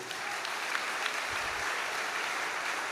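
An audience at a gospel preaching event applauds for Jesus Christ, a dense, steady wash of clapping throughout, fairly loud and without talk on top.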